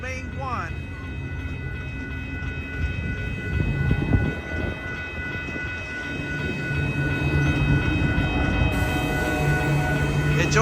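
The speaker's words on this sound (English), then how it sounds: "This train was switched from main 2 to main 1" Amtrak California Zephyr Train #6 departs Reno, Nevada through the trench, its steady rumble and wheel noise building as it pulls away, with a faint horn early and a voice talking over it.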